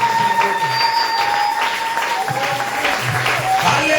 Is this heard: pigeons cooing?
no